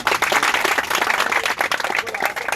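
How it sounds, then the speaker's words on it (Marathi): A crowd at a police recruitment age-limit protest gathering at Azad Maidan breaks into applause, with dense, continuous clapping from many hands at close to medium distance for the whole stretch. "सध्या टाळ्या"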